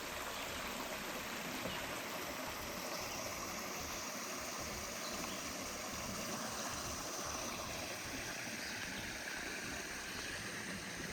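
A creek rushes and gurgles steadily throughout, a continuous wash of flowing water with no voices.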